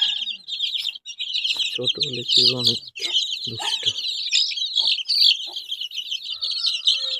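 Chickens in a village coop cluck and chirp in a dense, continuous chorus close by, with someone speaking intermittently over them.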